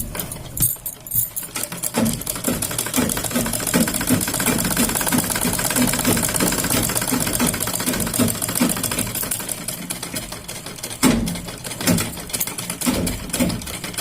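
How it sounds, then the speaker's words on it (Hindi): Sewing machine stitching stretched elastic onto a child's top, a steady rapid mechanical chatter running loud and close for the whole stretch, with a brief pause and restart near the end. "खींचते हुए हम सिलाई लगाएंगे।"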